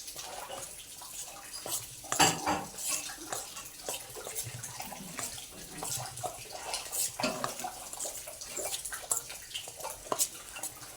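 Semolina and gram flour batter is mixed in a bowl for pudla, with irregular clinks, taps and wet scraping of a spoon against the bowl, close and fairly quiet, without speech.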